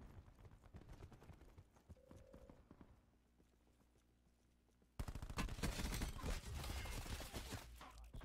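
Rapid automatic gunfire from a Black Ops 4 match, a dense loud burst of shots erupting after a quieter stretch of game sounds and continuing to the end.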